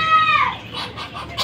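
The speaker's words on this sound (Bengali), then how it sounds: "তো এখন চীনা হাঁসে রাতের খাবার দেওয়া হয়েছে।" Chinese ducklings hatched only a few days earlier are fed layer feed for their evening meal. They give brief, high peeping and chirping calls close by, rising and falling in short bursts.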